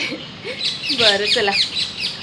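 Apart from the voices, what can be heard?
birds chirping outdoors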